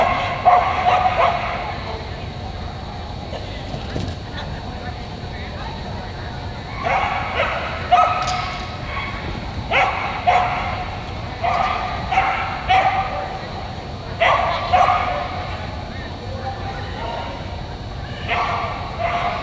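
A border collie named Flops barks in short repeated bursts during a dog agility run at a UKI US Open speedstakes ring, with steady commentary talk over the arena background.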